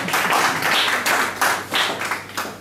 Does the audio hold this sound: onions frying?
no